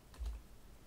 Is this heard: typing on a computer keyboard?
yes